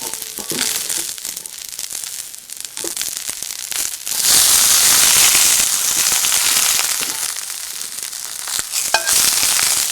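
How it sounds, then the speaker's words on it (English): Brussels sprouts hitting a pot of hot oil, a loud broadband sizzle that jumps sharply in intensity partway through and stays steady and close, with crackling pops scattered throughout; no talking. "we're going to add our Brussels sprouts"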